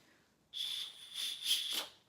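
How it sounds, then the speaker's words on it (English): A small plastic safety whistle clipped to a backpack's strap, blown in a shrill, piercing tone that holds for over a second, wavers, then rises in a brief final burst before cutting off. "Oh wait, there's a rape whistle."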